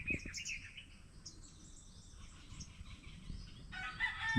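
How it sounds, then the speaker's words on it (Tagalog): A rooster crows at a distance over steady outdoor riverside ambience, with scattered bird chirps and calls around it. "makikinig mo lang eh mga huni ng ibon at manok"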